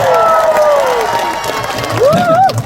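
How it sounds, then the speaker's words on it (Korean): Crowd at the Geumsan Samgyetang festival claps and cheers loudly and steadily, while voices call out over the noise near the end. "여러분 다시 한번 큰 박수 부탁드리겠습니다"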